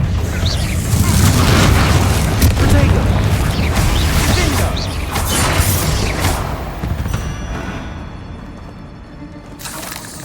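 A Confringo blasting spell going off in the Hogwarts Legacy video game, a heavy booming burst with rumbling debris and crackle that gradually fades away, loud and close.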